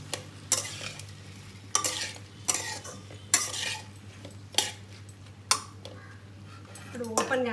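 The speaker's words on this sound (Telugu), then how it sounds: "ఇప్పుడు ఓపెన్గానే ఫ్రై చేద్దాం, లిడ్ లేకుండా" Okra (bhindi) fries uncovered in an open pan, a soft steady sizzle under repeated sharp clinks and scrapes of a spoon stirring against the metal, with a faint voice in the background.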